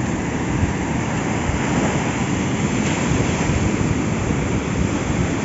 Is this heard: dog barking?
no